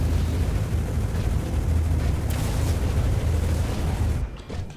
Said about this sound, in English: I probably should be a little further away from him when he explodes